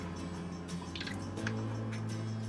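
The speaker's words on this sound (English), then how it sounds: "pour a little bit of my oil" Oil is poured into a small clear container used to clean artist paint brushes, making faint, scattered drips and soft trickling over a low, steady background hum.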